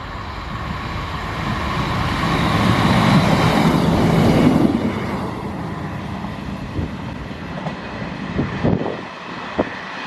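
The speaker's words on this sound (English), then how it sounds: "here comes a non-stopping train!" A non-stopping train rumbles through a station at speed, building to a loud roar and then fading, with a few clicks of wheels on track as it goes.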